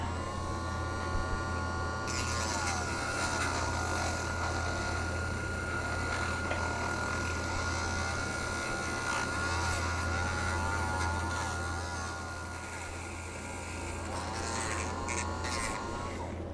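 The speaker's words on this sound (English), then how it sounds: "I'm going to switch back to my my sanding drum on my Dremel" A Dremel rotary tool with a sanding drum roughing out a model Peterbilt 281 hood, a steady high whine with a continuous buzzing grind that holds for the whole stretch and eases slightly toward the end.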